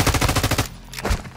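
Automatic gunfire in Call of Duty Modern Warfare II, a loud rapid burst of shots for about half a second, then a few scattered heavier blasts.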